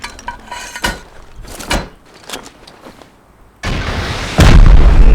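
Shots hit a structure in the Rust video game: a few sharp impact bangs, then a sudden sustained roaring blast that grows louder at the end, with no voices over it.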